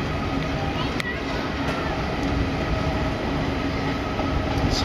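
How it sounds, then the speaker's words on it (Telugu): An MMTS suburban train on tracks beside a residential balcony rumbles past steadily and fairly loud for several seconds, a continuous broadband roar with a brief high click partway through. "ఇది MMTS ట్రైన్"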